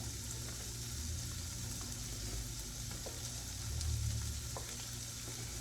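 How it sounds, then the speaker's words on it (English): Rice frying in a pan gives a quiet, continuous sizzle with soft scraping as it is stirred, faint and steady throughout with no voices. "stir up the rice a little bit"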